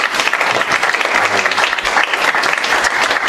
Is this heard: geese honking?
no